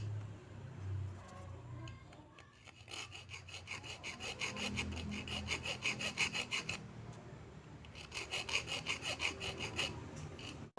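A hand saw rasps back and forth in steady rhythmic strokes on a Suzuki Carry, with a pause mid-way before the strokes resume, fairly close and without talk.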